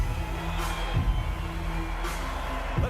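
A boxing arena crowd roars and cheers in a steady, loud wash of many voices, with a few sharp bangs and whoops rising out of the din.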